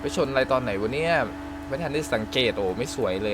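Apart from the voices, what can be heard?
No everyday noise stands out behind the speech.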